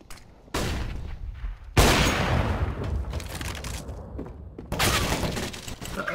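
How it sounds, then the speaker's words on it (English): Sharp broadband bursts from a CS:GO competitive match, a flashbang detonating amid loud gunfire. Heavy blasts land near 0.5, 1.8 and 4.7 seconds, each followed by sustained crackling noise, with no voices. "Deploying flashbang."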